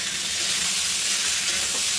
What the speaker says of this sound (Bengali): এবার আমি ভেজে রাখা ফুলকপিগুলো দিয়ে দিলাম।